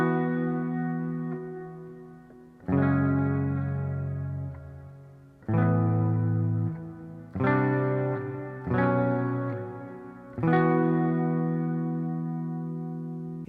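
Clean electric guitar strumming ringing add9 chords one at a time, each left to sustain and decay, with a spacious, shimmering effect and no distortion.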